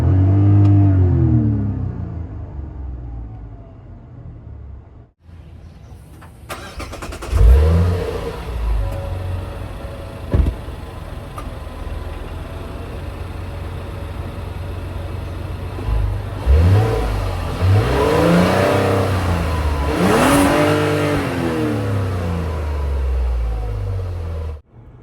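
Mazda CX-90 three-row SUV engine revving up from idle several times, with rising and falling surges and a steady loud rumble between them, close by and without talk.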